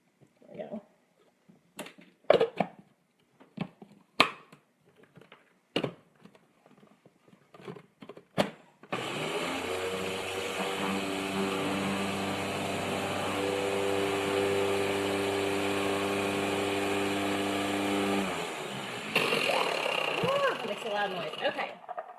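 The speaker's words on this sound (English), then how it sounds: "let me scoop this down in here so it'll actually blend up for us instead of just pushing over to the side" A blender runs hard on mason jar salad ingredients for about nine seconds, a loud steady whirring drone with a strained pitch, after a stretch of scooping, clatter and talk. It cuts off briefly and then restarts.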